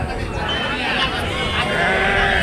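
Goats and kids bleat amid a dense hubbub of crowd chatter at the Kunta livestock market in Ongole, Andhra Pradesh, the calls blending into steady, loud background noise.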